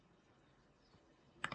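A computer mouse clicked twice in quick succession during Adobe Premiere Pro editing, two crisp close clicks after a near-silent stretch.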